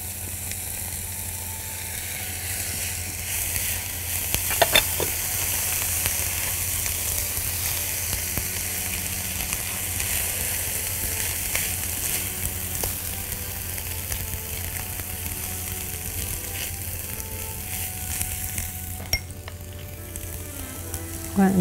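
Onions and rice fry in a pan under a steady loud sizzle, with occasional scrapes and clinks as they are stirred; there is no talk.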